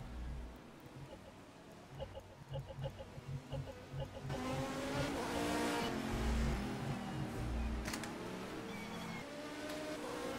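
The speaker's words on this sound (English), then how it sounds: "I'll just quickly turn up the volume of the cars for the audience." Race car engines drone and rev in a sim racing game at Indianapolis, faint at first, then louder and sustained as several cars pass, with a commentator's voice briefly heard early on.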